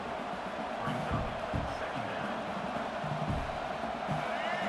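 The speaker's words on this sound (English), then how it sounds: "this home crowd is fired up and ready to make a difference today" A steady roar from an excited home crowd in the College Football 26 video game fills the stadium continuously. Low thumps and faint voice-like murmurs sit beneath it.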